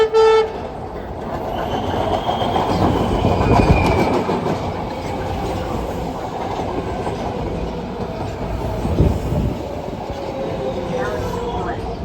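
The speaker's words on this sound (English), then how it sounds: "A sundown gold line train is approaching the station." A MARTA Gold Line train approaches West End station with a steady rail rumble and rolling clatter, a short horn toot at the start, and a voice talking over the noise.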